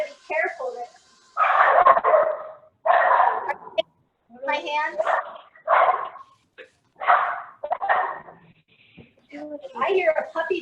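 A puppy in a home kitchen, during pizza making, yips and barks in repeated short bursts, loud and close, with people talking between the barks.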